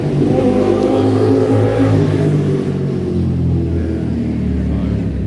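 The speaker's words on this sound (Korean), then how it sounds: "오토바이를 그냥 아주 요란하게 타고 가시는 분이 계신데" A motorcycle rides past loudly outside the Constitutional Court during a one-person protest, its engine a continuous rumbling roar that stays strong and steady throughout with no talk over it.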